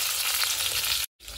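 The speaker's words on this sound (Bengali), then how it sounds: "মাছ ভাজাটা হচ্ছে এখানে," Fish sizzles loudly and steadily as it fries in a pan, a dense hiss of hot oil that breaks off into a short silence near the end.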